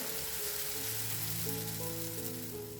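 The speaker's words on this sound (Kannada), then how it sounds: "ಮತ್ತೆ ನಾವು ದೋಸೆನ ಹಾಕ್ಕೊಳ್ಳೋಣ" Dosa batter sizzling on a hot pan, a continuous hissing fry that stays even and close for a few seconds, with tonal kitchen hum underneath and no voices.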